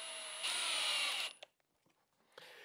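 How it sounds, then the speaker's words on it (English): Power drill driving screws into a wooden crosscut sled in a workshop, a loud steady whir for about a second that ramps up then cuts off, followed by a few faint clicks and a short second burst. "I'm just going to take a moment and attach some screws"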